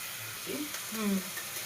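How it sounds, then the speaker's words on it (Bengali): Potato and spice masala frying in a pan, a soft low sizzle with a couple of faint stirring scrapes, quiet and brief. "এই যে এখন আলু মশলাটা কষা হচ্ছে"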